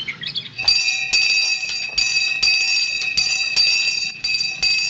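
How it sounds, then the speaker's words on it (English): A bath bell at a poor farm rings in a rapid series of bright metallic strikes, about eight or nine close, loud clangs in steady rhythm, with a brief chirping sound just before it starts. "That's the bath bell."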